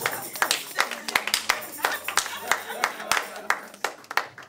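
Two people clap their hands in a church thanksgiving service, sharp distinct claps in a quick uneven rhythm, close and loud, with a voice talking between and under the claps.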